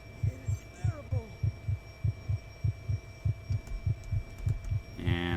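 A slow, steady heartbeat in the horror video game Conarium, about a dozen deep, evenly spaced thumps over a faint droning hum, with brief eerie chirps early on and a sharper noise burst at the end.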